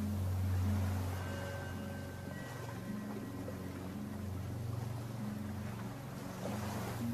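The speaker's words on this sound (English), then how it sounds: "Allow the sounds of the ocean to wash over you" Ocean waves wash in a low, steady roar with soft swells and a continuous rumble, with some wind noise on the microphone and a faint motor-like drone underneath.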